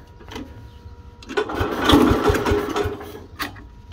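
A 1964 Cub Cadet 100 garden tractor engine cranks and catches, with a few sputtering firing pulses building into a rough, uneven run nearby.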